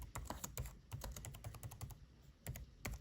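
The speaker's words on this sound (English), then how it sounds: "And then in the box, I'll type" Typing on a computer keyboard, close crisp clicking keystrokes in quick bursts with short pauses between them, quiet overall and no voices.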